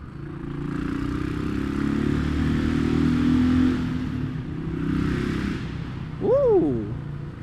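Royal Enfield Classic 500 motorcycle engine rumbling steadily through a city tunnel, a close, spluttery low drone that swells and fades, followed by a short rising vocal exclamation near the end.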